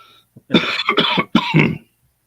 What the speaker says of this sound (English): get that cough in there